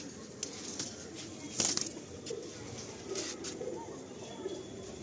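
Pigeons released from a loft give a sudden close burst of flapping wings, with soft cooing over a steady outdoor background.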